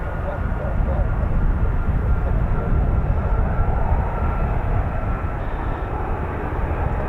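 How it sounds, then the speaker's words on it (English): F-35B stealth jet making a vertical landing, a loud, dense, unbroken engine roar holding steady throughout. "We have Another vertical landing coming up."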